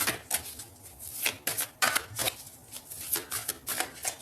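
Tarot cards are shuffled and cut by hand in a burst of crisp, papery riffles and slaps, repeating in an irregular rhythm at close range with no talking.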